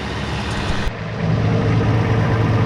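A 4x4 engine idles a bit fast and steadily with a low, fast rumble, close by and continuous, with no speech.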